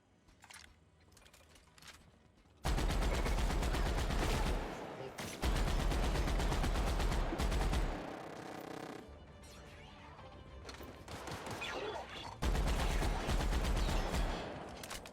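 Heavy gunfire in The Outer Worlds, loud sustained bursts of automatic weapon fire and impacts broken by short pauses, starting after a quiet opening.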